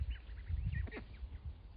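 A duck on a small backyard farm gives a few faint nasal calls over a steady low rumble of background noise, with no one speaking.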